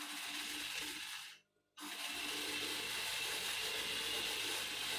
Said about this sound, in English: So I'm sewing the second side by half an inch.